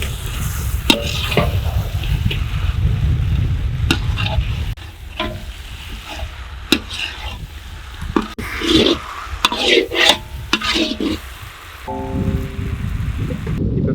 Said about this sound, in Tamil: இப்போ வறுத்த மீன் அதில் போட்டு விரட்டிக்கலாம்.